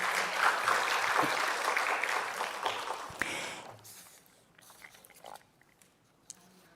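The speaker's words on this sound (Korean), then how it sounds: "다시 한번 감사의 박수 부탁드립니다" Thankful applause from a congregation at a 70th-anniversary thanksgiving worship service for the magazine Saegajeong. It is steady and fairly full for the first few seconds, then thins out and fades into scattered claps and room noise.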